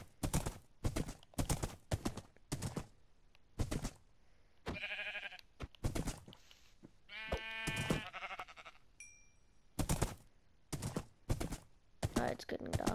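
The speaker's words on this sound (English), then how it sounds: "It goes fast for some skeleton horse." A skeleton horse in Minecraft gallops in sharp, evenly spaced clip-clop hoofbeats, broken up by short bleating cries from the animal.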